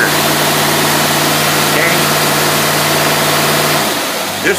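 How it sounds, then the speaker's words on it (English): A carbureted car engine with a Quadrajet carburetor idles loudly and steadily up close, its pitch rising briefly as it revs, while someone speaks a single word over the running motor. "the motor's getting hot, so let's put her in gear"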